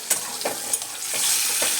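Oil sizzles steadily in a pan of frying potatoes with a few scraping stirs early on, the frying hiss swelling louder toward the end.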